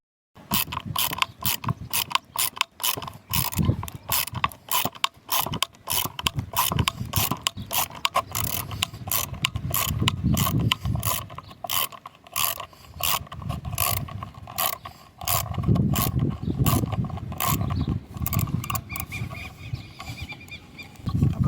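Ratchet screwdriver driving a screw into wood, a rapid run of close, crisp clicks repeating in bursts with each turn of the handle and brief pauses between strokes.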